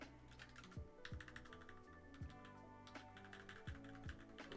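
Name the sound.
typing on a computer keyboard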